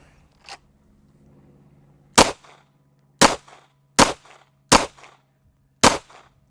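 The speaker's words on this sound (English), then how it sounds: "This time I'm going to do 10 shots on each" Series of sharp pistol shots fired in ambidextrous shooting practice: one faint early shot, then five loud, evenly spaced cracks, each with a short echo tail, over a quiet low hum.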